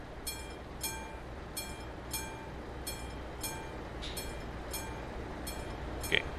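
A train passes a level crossing in Euro Truck Simulator 2, with steady rumbling and regularly spaced clicking wheel beats at a moderate distance, repeating about every half second.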